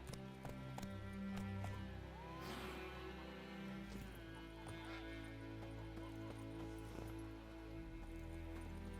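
Roach the horse gallops in The Witcher 3, a steady rapid clip-clop of hooves running beneath a bed of music and ambient game sound, fairly faint.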